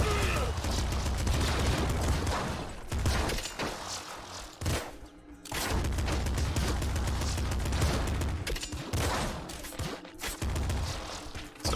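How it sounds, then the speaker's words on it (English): Rapid machine gun fire and explosive booms from the video game Nuclear Throne, loud dense bursts that pause briefly twice, with a voice talking over the action. "I can't believe I'm still using the machine gun, but it's working!"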